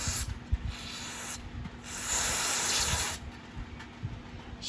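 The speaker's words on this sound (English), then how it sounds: "You want to just kind of spray there." Aerosol spray can hissing into the carburetor of a 2009 Craftsman self-propelled lawn mower, in several short bursts with one longer steady spray in the middle, close and fairly loud, with no talk.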